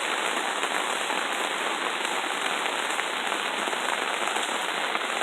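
Steady rain falls on a morning outdoors, a dense, even hiss of drops with a fine crackling texture, continuous and unbroken throughout.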